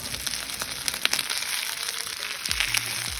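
A mixed vegetable dosa fries in oil on a hot pan, giving a steady close crackling sizzle, with a few brief scraping and knocking sounds near the end.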